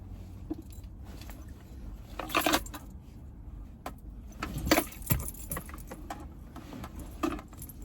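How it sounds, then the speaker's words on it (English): Keys jangle and clink in several short bursts, close up, with soft handling noises between them. "I just grab the keys on my back and lock it"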